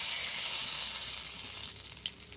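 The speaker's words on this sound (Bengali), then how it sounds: "এই তেলের মধ্যে আলুটা ভাজি করে নেব তো দিয়ে দিচ্ছি তেজপাতা" A bay leaf drops into hot oil left from frying fish in a wok, and a loud, steady hiss fades a little toward the end, with no voice over it.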